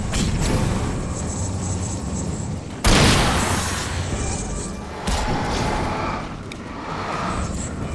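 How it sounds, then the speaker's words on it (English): Flashbang grenade in the video game Alan Wake: a sharp, loud bang cuts into steady rumbling game noise, followed a couple of seconds later by a second, softer burst, with ringing tones lingering throughout. "I'm just gonna flashbang you"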